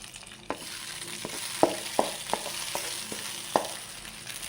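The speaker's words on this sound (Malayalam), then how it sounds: "നെയ്യിൽ മൂപ്പിച്ച നട്ട്സ് എല്ലാം നമുക്ക് ഈ പായസത്തിലേക്ക് ഒന്ന് ഒഴിച്ചു കൊടുക്കാം." Nuts fried in ghee being poured with the hot ghee into rice payasam, a soft, steady sizzle and crackle punctuated by several distinct clicks and taps.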